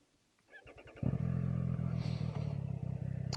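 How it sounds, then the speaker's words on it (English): A Triumph Street Triple middleweight naked motorcycle pulls away on a ride, its engine note rising abruptly from a quiet idle to a loud, steady drone with some clatter and wind, close by throughout. "let's get on the bike, go for a ride"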